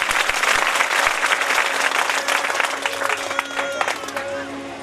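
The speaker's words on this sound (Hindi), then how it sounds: "उसके लिए ताली बजा दीजिए पहले" An audience at a Bhagwat katha gathering claps in a dense, sustained round of applause, loud and close, and a voice speaks over it toward the end.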